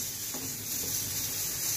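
Cauliflower sautéing in a pan, a steady soft sizzle and hiss with faint stirring scrapes, heard close and alone.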